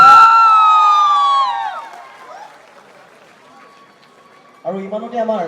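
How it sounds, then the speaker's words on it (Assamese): A crowd cheers and shouts loudly for the best literary winner at a Gauhati University varsity week event; the noise dies away after about two seconds and a voice then speaks. "সকলোৱে এটা এই শ্ৰেষ্ঠ সাহিত্যিকৰ কাৰণে ডাঙৰকৈ হাত চাপৰি দিব লাগে"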